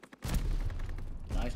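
A grenade explosion in a first-person shooter, a sudden heavy boom that rumbles on for over a second with a second burst near the end, loud and close, with a voice faintly present underneath.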